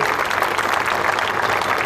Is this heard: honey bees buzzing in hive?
no